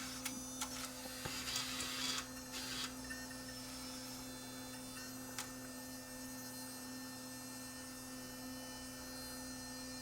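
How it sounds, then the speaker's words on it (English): Panasonic AG-DV2500 Mini DV deck mechanism threading tape, giving a few small clicks and a brief whirring motor burst near the start, then a steady electrical hum with faint ticks, close and quiet. "it's going to wind the tape back in"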